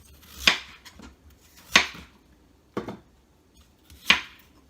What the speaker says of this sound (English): So we're just going to cut these up.